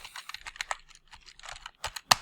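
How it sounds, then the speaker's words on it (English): Fingers typing a name on a computer keyboard, a quick irregular run of close, crisp key clicks with short pauses and a couple of louder strikes near the end. "I want you to edit that just by double picking it and typing it in your name."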